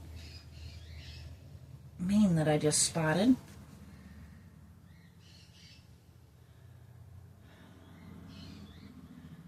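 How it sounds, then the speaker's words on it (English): Pet cockatiels and conures give a loud burst of squawking calls lasting about a second, with softer chirps scattered around it while a person speaks quietly nearby. "I am going to go see what my birds are yelling about"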